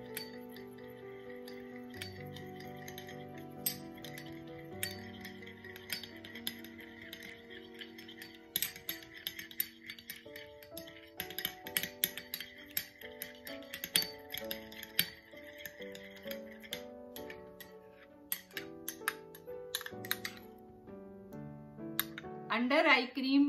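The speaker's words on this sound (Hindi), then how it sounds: "1 से 4 ड्रॉप बादाम का तेल, 1 चम्मच रोज वाटर। इसे अच्छे से मिक्स कर लें।" A spoon stirs almond oil and rose water together in a small bowl for a homemade under-eye cream, giving light, repeated clinks and ticks against the dish, close but fairly soft beneath steady background music.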